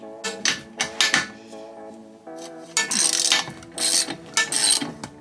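Socket wrench from an 18-piece kit ratcheting on bolts while seats are pulled out of a school bus, a few clicking bursts with brief pauses, close and fairly loud, with metallic clinks between.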